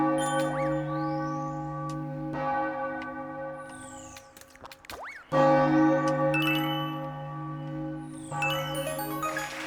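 A wedding bell in Super Mario Odyssey tolls in repeated resonant strikes, each one ringing out and decaying with bright overtones, layered over steady game music, with a brief gap before a louder strike.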